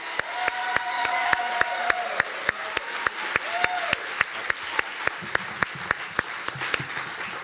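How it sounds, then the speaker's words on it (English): Audience applause for a storyteller at The Moth Grand Slam in Detroit, a broad crowd clapping steadily, with sharper single claps standing out near the recorder at a regular beat. "Please give a big round of applause"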